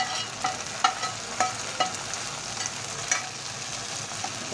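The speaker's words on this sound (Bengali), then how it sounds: "এখন এই যে দেখেন আমি বাগারটা দিয়ে দিচ্ছি" Fried tempering (bagar) is poured into a pot of Jamalpur-style menonda and stirred, giving a steady sizzle with a few sharper clinks of the spoon against the pot; close and moderately loud, with no talking.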